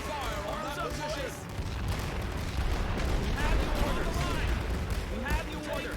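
Artillery fire in The Great War: Western Front, with repeated dull booming blasts and a rumbling battlefield bed. A voice talks over it throughout.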